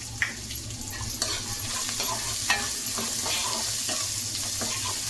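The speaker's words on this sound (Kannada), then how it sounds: "10 ಗೋಡಂಬಿ 10 ಬಾದಾಮಿ ಅದು ಹಾಕ್ತಾಯಿದ್ದೀವಿ" Cashews and almonds fry in hot oil in a pan while being stirred, giving a steady close sizzle broken by scraping strokes and small clinks of the spoon against the pan.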